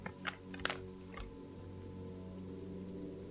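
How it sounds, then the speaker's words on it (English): Rain falling in the video game Disco Elysium, a quiet steady patter with a few soft, closer drops at the start over a low ambient hum. "Rain falls down on the world."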